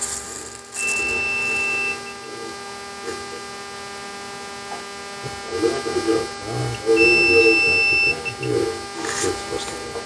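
A continuity tester gives steady electronic beeps while probing a rebuilt GM transmission's wiring, tones starting and stopping in short bursts over a low hum, with a voice talking underneath.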